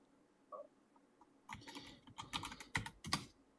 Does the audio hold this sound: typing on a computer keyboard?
yes